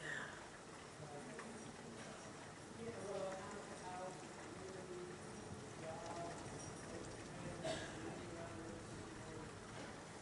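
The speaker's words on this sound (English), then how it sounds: "It is raining heavy enough to where it's actually catching on camera." Heavy rain from an Oklahoma supercell thunderstorm pours steadily as a dense, even hiss at low level throughout, with no clear thunder.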